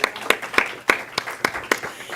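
Audience applause rings out for a practitioner introduced on a stage platform: a series of distinct, fairly regular claps, close and crisp, sounding like a small group or a few people clapping.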